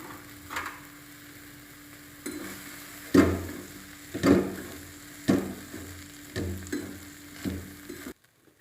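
Okra being stir-fried in a pan with crushed peanuts: a quiet background sizzle broken by periodic scraping and knocking of a spatula against the pan, several strokes at uneven intervals, close by.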